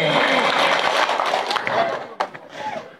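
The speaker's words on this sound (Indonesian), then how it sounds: "Kasih tepuk tangan lah." An audience at an outdoor Islamic tabligh akbar gathering in Gundaling, Baganbatu, breaks into a dense burst of applause that fades after a couple of seconds, followed by scattered voices.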